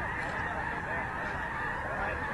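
A large flock of snow geese honks continuously at a migration gathering while the birds land on water, forming a dense, steady chorus of overlapping calls with no pauses.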